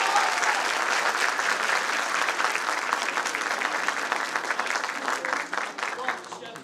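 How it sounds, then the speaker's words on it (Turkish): Dense, continuous audience clapping after a university theatre club's performance of the play Kadınlık Bizde Kalsın, loud and even throughout before easing slightly near the end. "Bu alkış gerçekten çok kıymetli."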